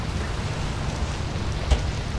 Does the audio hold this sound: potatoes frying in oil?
no